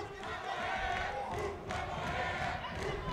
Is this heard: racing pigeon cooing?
no